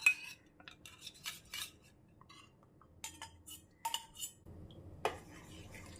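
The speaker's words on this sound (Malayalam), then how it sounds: "ഇളക്കി കൊടുക്കണം." A milk mixture for a dessert is stirred in a pan, with sparse metallic clinks and scrapes of a utensil against the pan, faint and intermittent in a quiet kitchen.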